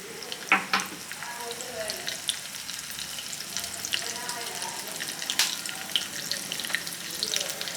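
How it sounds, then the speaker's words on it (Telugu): Crushed garlic cloves and a pinch of turmeric sizzle in hot tempering oil for cucumber dal, a steady frying crackle with a few sharper pops and faint stirring clinks up close. "కొద్దిగా కచ్చా పచ్చాగా దంచుకున్న వెల్లుల్లి రెబ్బలు, ఒక చిటికెడు పసుపు వేసుకుందాం"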